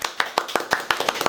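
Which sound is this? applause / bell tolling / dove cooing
applause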